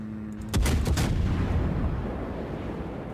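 Warship main-gun artillery in World of Warships, played as the cruiser Fiji: a sharp, booming salvo that strikes suddenly after a quiet start, followed by a few quick cracks and a long rumbling roar that slowly fades.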